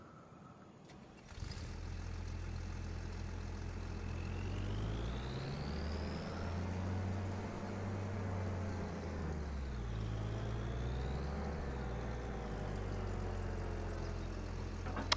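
Massey Ferguson tractor in Farming Simulator 25, its engine starting up then settling into a steady, throbbing diesel idle, close and continuous with rising and falling whine layered over it.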